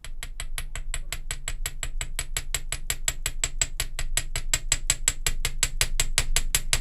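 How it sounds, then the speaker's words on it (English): Rapid, evenly spaced metallic strikes repeat about five or six times a second, close and sharp, as a small hammer flattens the end of a jewelry wire. "hammering it out, so you'll see that it takes the end of the wire and it turns it into a wider, flatter area"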